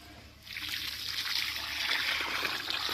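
Water is poured into a pit dug for planting a coconut tree, beginning after a short quiet moment as a close, continuous splashing trickle that grows slightly louder and keeps going, with no talk over it.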